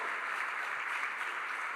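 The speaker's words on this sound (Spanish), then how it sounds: "Dale un aplauso." Steady applause from a church congregation during a sermon, a dense continuous clapping that holds evenly for the whole stretch.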